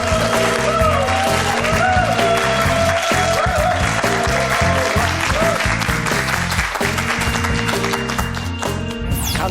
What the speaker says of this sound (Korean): 오늘의 연사 이만열 교수님을 여러분 뜨거운 박수로 맞아주시길 바랍니다.